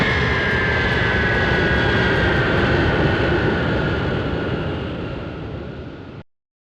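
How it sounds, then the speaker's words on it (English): A passenger airplane touching down on a runway: steady, loud broadband jet and engine roar with dense rumbling throughout, fading slightly before cutting off abruptly. "There's a bumpy rumbling sound. The wheels are making contact and the plane is on the ground."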